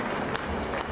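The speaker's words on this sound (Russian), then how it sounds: "Под ваши бурные аплодисменты, друзья." An audience applauds at an award ceremony for Russian championship medalists, and the dense clapping is brief and continuous throughout.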